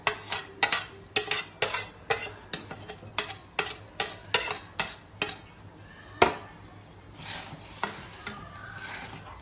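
Vermicelli payasam stirred in a pot of boiling water, a rhythmic series of close scraping and knocking strokes, about two per second, then softer bubbling and scraping.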